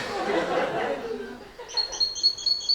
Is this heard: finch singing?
yes